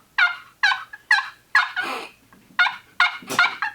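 HS Strut Champion Yelper turkey call played by hand, producing a series of about eight sharp, close yelping notes in an uneven rhythm that closely imitate a turkey's yelp, with no talking.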